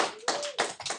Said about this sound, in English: Clap if you agree with Alyssa.